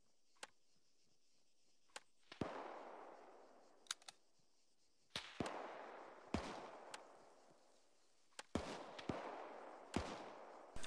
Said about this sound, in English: I'm gonna go towards the gunfire.